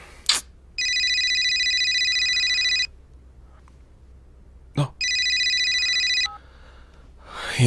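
A telephone rings in two long electronic bursts separated by a pause, loud and close, with brief breath-like sounds between the rings.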